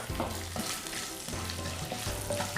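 Lightly crushed whole spices, including peppercorns, sizzle in hot oil for a Kerala-style chicken stew. A steady, close frying hiss runs throughout, broken by soft rhythmic stirring knocks.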